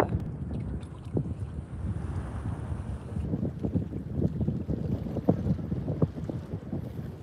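Gusty sea wind at the shore buffets the microphone with a loud, rumbling roar that rises and falls in uneven surges, with no voices.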